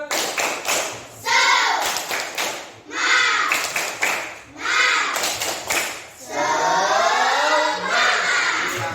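A classroom of children performs a rhythmic clap chant, bursts of group clapping and chanting voices alternating in loud waves close by, with a teacher leading.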